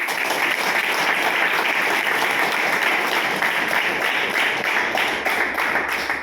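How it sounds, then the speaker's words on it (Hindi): Dense, steady applause from an audience at a Hindi-language motivational talk, many hands clapping together and filling the whole stretch at an even loudness with no voices on top. "तो उन सभी गुरु के लिए एक जबरदस्त ताली चाहती हूँ"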